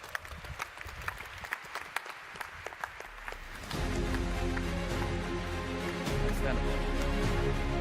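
Audience applause for startups at a Web Summit pitch event, crisp clapping that swells into a louder, denser crowd roar with music-like tones and cheering joining partway through.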